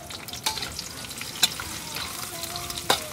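Onion sizzles in a pan as pakbet cooks, a crackling fry with sharp clinks and stirring scrapes standing out close by, and no voices.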